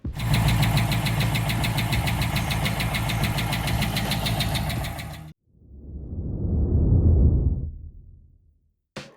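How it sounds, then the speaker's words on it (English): A warm, high-mileage 5.7 HEMI V8 in a Dodge Durango idles with low oil pressure, giving a rapid, even ticking over a steady engine drone for about five seconds. It then cuts off and a low, swelling rumble follows. "as soon as it warmed up, the HEMI Tick came back."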